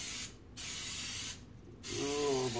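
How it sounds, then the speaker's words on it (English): Spectrum coconut oil cooking spray hisses from the can in two long bursts separated by a brief pause, close and loud, followed by a short voice at the end. "So again, I'm using a Spectrum coconut spray oil."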